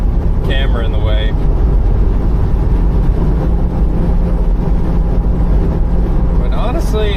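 A Porsche 987.1 with mufflers fitted to its exhaust drones steadily while driving, a continuous engine and road roar mixed with wind buffeting and a voice.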